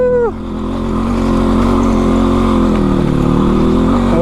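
A motorbike engine on an uphill road climbs from a brief drop into a loud, steady, strained drone, held close throughout.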